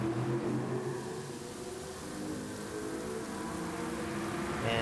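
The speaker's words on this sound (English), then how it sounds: "you can hear the rain starting to start up again" Rain in a racing video game on the Nürburgring GP circuit, a steady hiss of falling water mixed with a low engine rumble, continuous and moderately faint, no voices.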